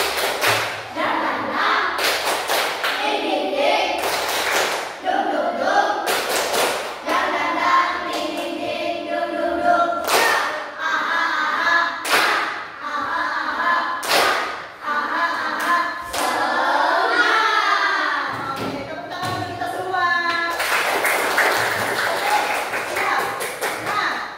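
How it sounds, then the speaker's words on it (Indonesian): A class performs a rhythmic clapping chant, voices calling out in unison between sharp, patterned bursts of claps and thumps that repeat in a steady beat for over twenty seconds. "kita tepuk semangat dulu seperti biasa"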